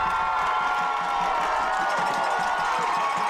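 Football fans cheer and shout from the stands at a high school game between Watonga and Minco, a dense, steady roar of crowd noise that holds loud throughout.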